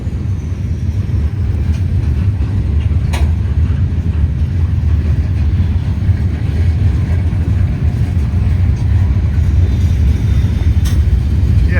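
A Norfolk Southern freight train with two locomotives up front rumbles past close by with a loud, continuous low roar and faint rhythmic clatter from the wheels throughout.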